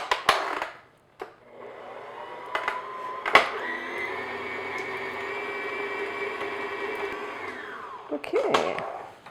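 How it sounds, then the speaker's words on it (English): An electric mixer beats unsalted butter for shortbread crackers on medium-low speed, a steady whirring drone that runs for several seconds between knocks of the beaters against the bowl, then stops with a final rattle. "I'm just going to beat this on, medium-low speed just until it's nice and smooth"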